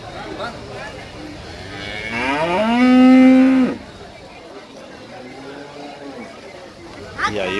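A cow that has just calved, out in a pasture, lets out one long, loud, deep moo, with a fainter, shorter low call after it and people talking quietly in the background.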